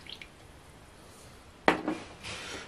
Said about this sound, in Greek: Θα ανακατέψουμε.